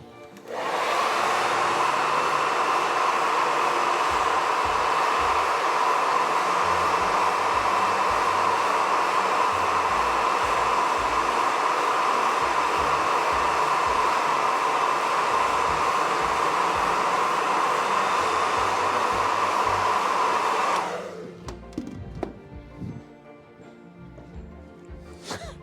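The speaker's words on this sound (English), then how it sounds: "We're gonna blast it again with the blow dryer" A blow dryer roars steadily for about twenty seconds, drying paint on a Warhammer 40k Tyranid miniature, loud and close, then cuts off abruptly, leaving light clicks and handling noises.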